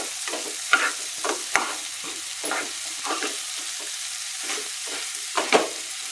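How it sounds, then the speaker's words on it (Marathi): Kachori filling with a little farsan sautéed in a pan, heard as repeated scraping strokes of a spatula over a light sizzle, close and fairly even, with no talking. "परतून घेऊया आपण."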